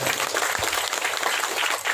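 Dense applause from a crowd of guests at a 50th wedding anniversary celebration, loud and continuous without pause for two seconds.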